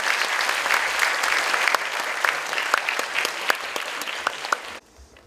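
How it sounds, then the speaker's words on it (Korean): A large audience of teachers at a primary teacher qualification course applauds to welcome the Chungbuk provincial education superintendent: dense, steady clapping for about five seconds that cuts off abruptly. "큰 박수로 맞이해 주시기 바랍니다."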